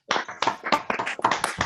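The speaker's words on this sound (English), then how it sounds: "let's give them a round of applause" Scattered clapping from a small group of people, likely over a video call, with irregular, uneven claps continuing for under two seconds at moderate level.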